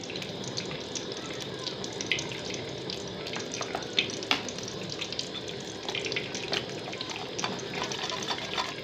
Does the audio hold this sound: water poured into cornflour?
yes